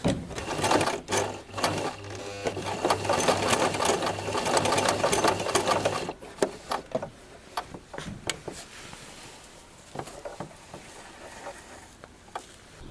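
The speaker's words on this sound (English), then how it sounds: "Using the special button foot, buttons with 4 holes can also be sewn on sewing machine" A sewing machine fitted with a button foot stitches a four-hole button in place, its fast mechanical chatter running steadily for about six seconds before giving way to a few scattered clicks and knocks.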